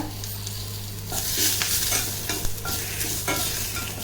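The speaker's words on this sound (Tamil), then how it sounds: "இப்போ கடுகு பொரிய ஆரம்பிக்கும் போது" Close crackling and popping of mustard seeds spluttering in hot oil for rasam, with bursts of sharp sizzle over a steady hiss.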